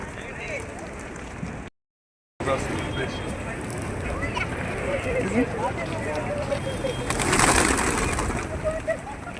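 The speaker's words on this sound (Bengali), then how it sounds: "কি সুন্দর লাগে কবুতরগুলো দেখতে" Pigeons coo softly amid a busy outdoor crowd near Jannatul Baqi cemetery in Medina, their calls mixed with wing flutters, footsteps and people talking nearby, with a brief break in the sound partway through.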